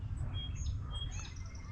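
Birds chirp and tweet outdoors as a thunderstorm rolls in, bright short calls over a low steady rumble of wind and distant weather, no speech.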